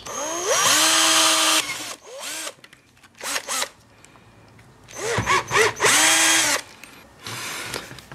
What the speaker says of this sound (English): drill a smaller guide hole, then enlarge that hole